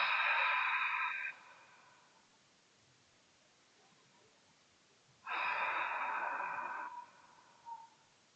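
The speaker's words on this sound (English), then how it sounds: "you use ujjayi breathing on the exhalation. So the way we do it is it's like making a ha sound, like an H sound." Two long, breathy ujjayi exhalations made during chair yoga, each a steady whispering 'ha' hiss through a narrowed throat, separated by a quiet pause and heard alone up close.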